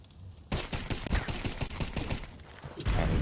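Gunfire sprays in a tactical shooter video game, a dense, loud burst of rapid shots that starts abruptly and keeps going with little break.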